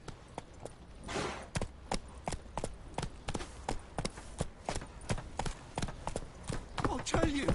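Roach the horse trots in The Witcher 3, with a steady run of crisp clip-clop hoofbeats, close and evenly spaced, and a spoken voice briefly over the start.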